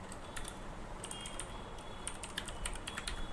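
Quiet typing on a computer keyboard, a steady stream of light clicks over about three seconds with small bursts of faster keystrokes, no voices.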